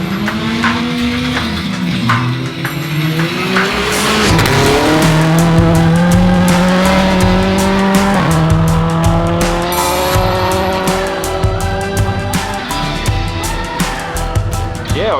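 Rally cars race on a tarmac stage through a town in New Zealand's Rally Otago, a loud, close engine roar climbing in pitch through the gears, with tire squeal and faint voices underneath.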